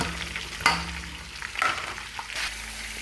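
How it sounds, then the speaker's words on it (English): Onions stirred into a pan with crisped smoked fish, giving a steady low sizzle of frying broken by a few louder scraping stir strokes near the start, middle and end; no voices. "I then proceed to add the onions. Stir it for 1 minute."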